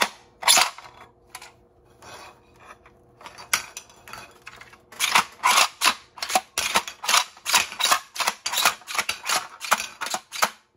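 Internal-magazine pump shotgun being cycled, shells ejecting into a mounted shell catcher bag, a fast series of crisp metallic clacks and rattles, sparse at first then rapid and regular, close up, no talk.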